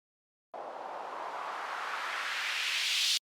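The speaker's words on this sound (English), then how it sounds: "And then a noise sweep as well." A noise sweep synth effect made in Serum 2 for techno: a burst of hissing white noise that brightens and rises steadily for under three seconds, then stops sharply. It plays alone and sounds like a rising whoosh.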